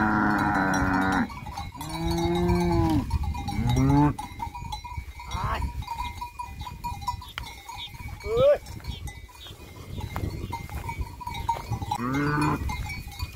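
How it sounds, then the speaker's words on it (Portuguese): Cattle herd crowding through a narrow farm gate about 1.5 metres wide, with loud lowing calls, shuffling and rattling near the microphone; people talk and shout among the animals. "as vacas querem passar tudo uma vez na cancela"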